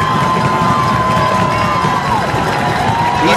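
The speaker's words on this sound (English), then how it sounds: "East Kentwood crowd is not as big as the Rockford crowd, but they are just as loud tonight" The East Kentwood high school football crowd cheers and shouts loudly during a night game against Rockford. Massed voices form a continuous, dense roar close by.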